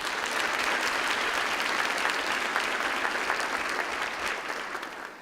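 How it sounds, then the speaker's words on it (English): A crowd at a student recognition breakfast gives a full, sustained round of applause that stays loud and dense throughout, with no voices heard over it. "Can they please get another round of applause?"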